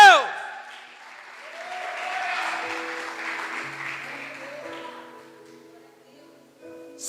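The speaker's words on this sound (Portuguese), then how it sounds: "Aplaude a Deus." A church congregation claps during a worship service, a soft swell of applause rising and fading beneath sustained musical tones and a brief voice at the start.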